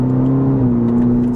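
A 2020 Cadillac CT4-V engine revs loud and close during a quick upshift, holding a steady drone before a brief dip and recovery as the gear changes.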